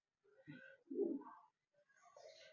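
A male tournament racing pigeon gives a few soft, faint coos, alone and quiet.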